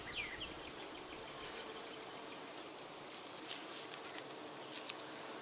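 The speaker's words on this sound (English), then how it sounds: "The bees are being pretty calm." Honey bees hum and buzz softly around an open hive, a faint, steady drone with a few closer buzzing passes and light outdoor patter.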